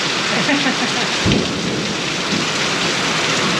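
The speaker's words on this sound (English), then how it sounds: "Thunder, uh-oh." Rain pours steadily outdoors on a vegetable farm while a single low roll of thunder rumbles through the middle, with no one speaking.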